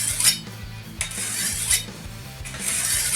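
A machete is sharpened by hand with rhythmic rasping strokes of abrasive on steel, about five scrapes in a few seconds, close and fairly loud with no talking.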